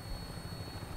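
A helicopter in Fallout 4 produces a continuous low, rumbling rotor thrum with a fast pulsing beat, heard up close and steady, with no talk.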